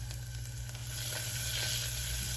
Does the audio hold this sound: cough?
no